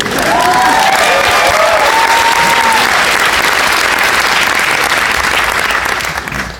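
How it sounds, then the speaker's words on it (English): A cruise-ship concert crowd breaks into loud, sustained applause with a few cheers and whistles at the start, the clapping holding strong and fading slightly at the end. "applaud yourselves while I plug myself in"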